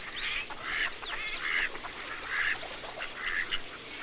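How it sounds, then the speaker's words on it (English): Mallard ducks quack repeatedly in short nasal bursts, several calls spaced across a few seconds against a soft outdoor background. "Now let's visit a family of mallard ducks."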